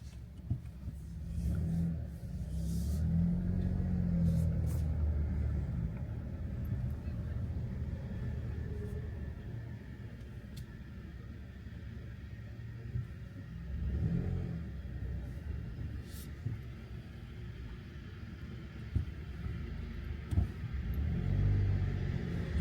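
A car descending a steep San Francisco street gives a low engine rumble that rises and falls with gentle revving and a couple of louder swells, accompanied by interior road noise.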